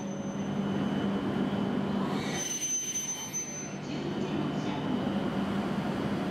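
A JR Hokuriku Shinkansen E7 series train, set F24 running as Hakutaka 551, passes with a loud continuous rush and high metallic squealing tones that peak and fade midway before the rumble rises again.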